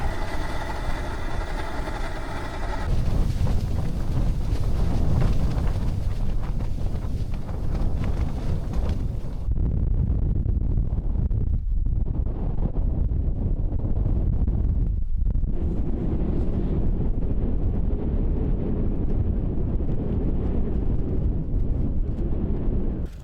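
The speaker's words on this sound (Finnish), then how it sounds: "Tuuli täällä vielä nyt vähän pauhaa" Steady, loud wind roar buffeting a tent close by, with gusts rising and easing over a continuous low rumble; no voices.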